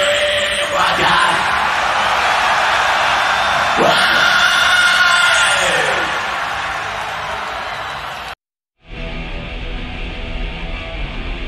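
Loud crowd at a metal concert yelling and screaming together, a dense sustained roar with whoops, cut off abruptly near the end before a quieter stretch of noise.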